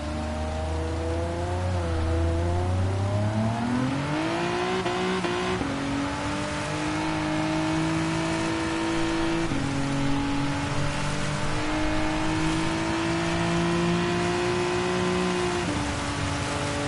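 Race cars in a Gran Turismo game running in slipstream at Suzuka, steady loud engine drone with rising harmonic pitch as they accelerate and shift, continuous throughout.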